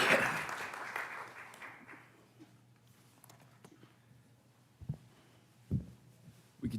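Applause from a crowd at a school board meeting swells briefly at the start, then fades away, leaving a quiet room with a few scattered thumps.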